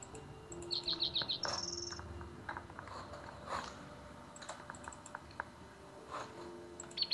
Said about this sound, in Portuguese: Cara, da onde tá vindo esse som de passarinho?